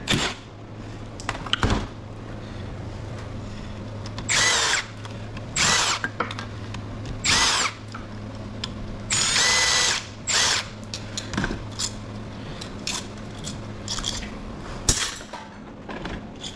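Power drill or impact driver backing quarter-inch bolts out of an air-conditioning unit's motor during teardown: repeated short whirring bursts of a second or so, close and fairly loud, with pauses of handling clatter and a low steady hum between.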